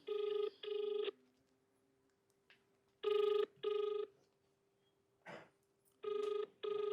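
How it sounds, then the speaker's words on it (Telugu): A telephone rings back in steady paired bursts with short gaps, fairly quiet, while a call is placed to the Medchal Malkajgiri collector's office, with a faint steady tone running beneath. "మేడ్చల్ మల్కాజ్గిరి కలెక్టర్ గారి ఆఫీస్కి ఫోన్ చేస్తున్నా"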